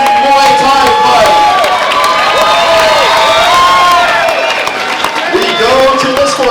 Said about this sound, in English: how about a round of applause for another amazing Muay Thai fight?